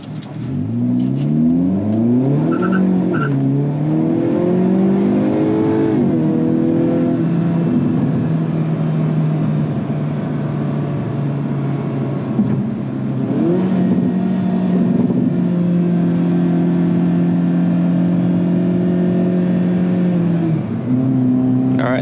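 A Hyundai Kona N in sport mode accelerates hard from inside the cabin, its engine note loud and steady for over twenty seconds, rising through the revs with audible gear changes and shifting pitch.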